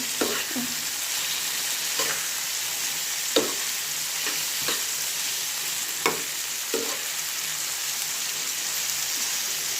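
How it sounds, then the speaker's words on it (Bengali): Papaya sliced for a bhaji frying in oil with turmeric powder, a steady sizzle broken by several sharp scrapes and clinks of a spoon stirring in the pan. "এখন এটা একটু নেড়ে চেড়ে দিব"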